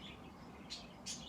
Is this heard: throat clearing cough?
no